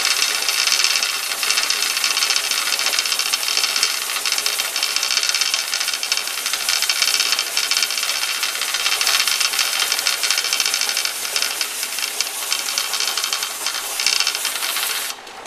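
A pressure canner with its weight on builds pressure while canning pumpkin, putting out a loud, continuous steamy hiss with a faint rattle that holds steady and close throughout, with no voices.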